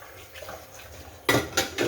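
Plates and cutlery clatter during dishwashing at home, starting with soft taps and water sounds, then three sharp, close clanks near the end.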